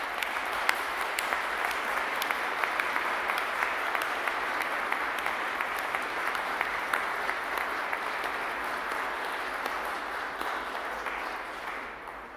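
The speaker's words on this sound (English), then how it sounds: "I think for that they deserve a round of applause as well" A graduation ceremony audience applauds in a hall, sustained even clapping from many hands that holds steady for several seconds before tapering off at the end.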